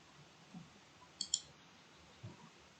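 Ctrl+N pressed on a computer keyboard to open a new Photoshop canvas, two quick crisp key clicks close together followed by a couple of faint taps, in an otherwise quiet room.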